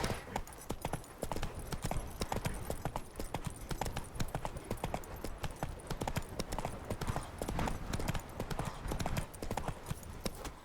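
Horse hooves trotting in The Witcher 3 video game, a fast, steady clip-clop rhythm that continues throughout at moderate loudness, with no talk.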